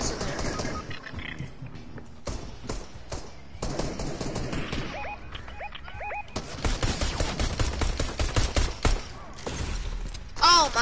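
Assault rifle gunfire in a video game crackles in rapid bursts and single shots throughout, loud and close, mixed with mechanical clicks, shattering sounds and brief game tones.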